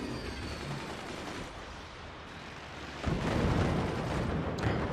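A Firebird nuke launches in a Forts RTS match amid loud, dense battle noise, with a heavier rumbling blast swelling up about three seconds in and holding to the end.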